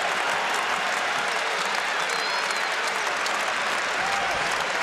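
A basketball arena crowd during a Syracuse–Georgetown college game cheers and applauds in a steady, dense roar of clapping and shouting that holds loud for the whole stretch.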